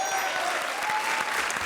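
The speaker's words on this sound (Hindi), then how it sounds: "जोरदार तालियां परेश और भारती के लिए" Steady applause from a comedy show's studio audience, dense continuous clapping filling the whole moment at an even level.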